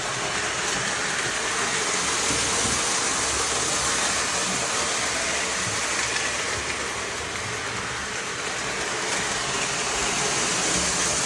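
Model trains running continuously, a steady loud whirring rumble with rail clatter, no voices.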